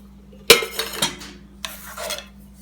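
A metal lid from a Winterial camping cookset set onto a metal teapot: a sharp clink, a few lighter taps and rattles, then a softer scraping clatter, all close and alone.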